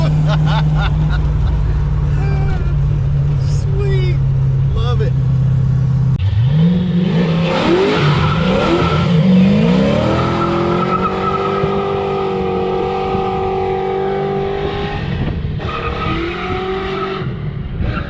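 Trick Flow-equipped car with a posi rear end on old tires and cold pavement, idling loudly nearby, then accelerating hard with rising engine revs and squealing tires that fade into a sustained roar.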